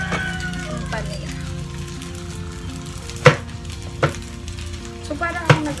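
Food sizzling as it fries in a pan while empanadas wait to be sliced, a steady crackling hiss with a few sharp pops and clatters of utensils standing out near the end.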